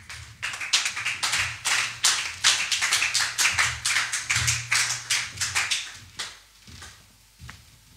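A church congregation claps and cheers for Jesus during a service, a loud burst of dense applause with vocal cheering underneath that carries on for several seconds before thinning out into scattered claps.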